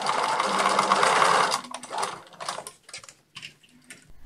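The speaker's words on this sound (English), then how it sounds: "And with that, all the machine sewing was done." A sewing machine stitches swimsuit fabric for a 1950s-style swimsuit, running in a loud, fast steady whir for about a second and a half, then stopping and restarting in short bursts with clicking handling noises.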